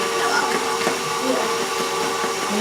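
An electric mixer runs on low speed through cake batter with vanilla, giving a steady whirring motor hum. A person talks over it.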